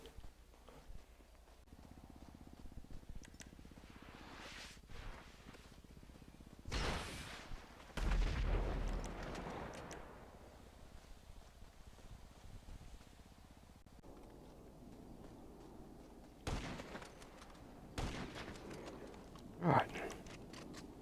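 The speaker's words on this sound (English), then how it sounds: "Fuck you and your marksman rifle." Marksman rifle fire during a Grand Theft Auto V freemode fight in the hills: a few loud, spaced gunshots with distant echoing booms over ambient noise and scattered footsteps.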